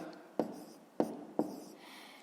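A pen or pencil writing numbers during a fifth-grade maths exercise, making three sharp, quiet scratching strokes spaced apart, with faint rustling in between.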